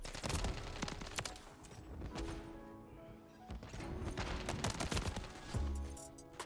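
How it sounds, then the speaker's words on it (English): Video game gunfire from MW3 in a dense, loud burst of shots and impacts that comes in waves, with the firing rising again after a brief lull. "Another shotgun."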